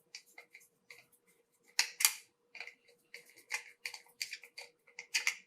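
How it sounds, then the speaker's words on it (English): A screwdriver tightens a wire into the terminal of a Moes Tuya ZigBee 2-gang smart light switch, giving a quiet run of small irregular clicks and scrapes heard close up without speech. "I'm just putting the wire into the socket, and then I'm using a screwdriver"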